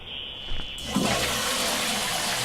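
A loud toilet flush from the video game Viscera Cleanup Detail, starting with a short tone and then rushing into a steady, broad gush of water that fills the rest of the moment, alone without talk.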